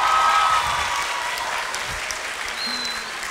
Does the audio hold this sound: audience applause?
yes